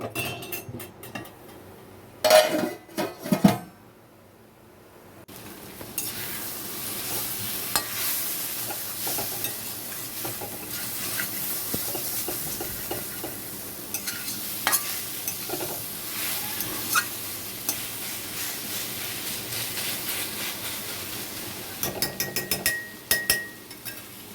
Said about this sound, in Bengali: শাক ভাজা হয়ে গেছে আমার।